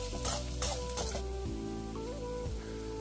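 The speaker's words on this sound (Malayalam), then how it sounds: "ഇനി ഇതിലേക്ക് കുറച്ച് കറിവേപ്പില ചേർക്കാം." Curry leaves sizzle and spit in hot oil in a pan with golden-brown fried onions for a Kerala-style okra tamarind curry. The frying crackle is loud and steady, broken by a few sharper bursts at the start.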